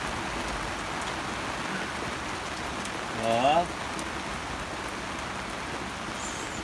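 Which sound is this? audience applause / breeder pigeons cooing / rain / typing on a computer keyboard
rain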